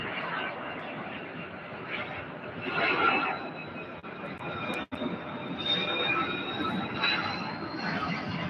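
A FedEx jet arriving at UPS Worldport in Louisville brings a continuous engine roar with a thin whine, swelling and easing as it passes, a sharp click midway and a voice briefly present.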